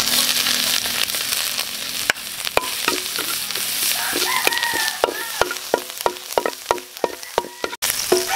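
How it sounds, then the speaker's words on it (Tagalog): Garlic and ginger sizzle in a hot pan while a utensil scrapes and taps the metal in irregular clicks, a steady frying hiss underneath, close and fairly loud. "Gigisa na po tayo ng bawang at saka luya"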